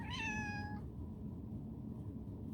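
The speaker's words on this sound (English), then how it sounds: "That's my cat." A single cat meow rises and then fades out within the first second, close and clear, followed by a steady low background hum.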